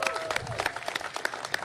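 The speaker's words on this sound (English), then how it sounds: "We can applaud that, right?" An audience at the Atlanta mayor's press event on summer violence breaks into a brief, fairly quiet round of applause. Individual claps are scattered but continuous, with a voice faintly underneath.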